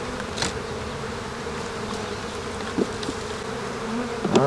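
Honey bees drone in a dense, continuous buzz while a hive is being split, close and steady, with a few brief louder whines from individual bees passing near.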